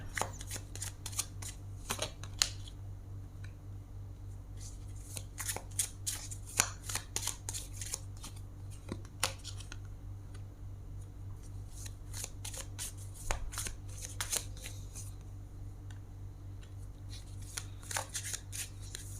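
Tarot cards shuffled by hand in a steady run of crisp riffling bursts, close and fairly quiet, continuing throughout over a low background hum with no talking.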